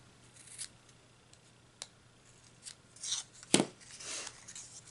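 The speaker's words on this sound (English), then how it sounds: "So, we're going to bring our scissors right in between there." Scissors snip through string loops in a few sharp, close cuts, spaced irregularly with a louder snip near the end and quiet between.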